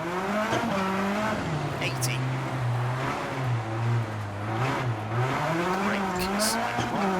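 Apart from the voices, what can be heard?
rally car engine and throttle in WRC video game, Monaco stage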